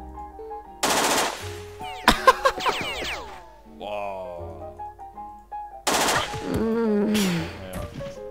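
Gunfire in the video game Jagged Alliance 2 (Urban Chaos 1.13 mod), with sharp bursts of automatic fire alongside sweeping electronic game effects and tones.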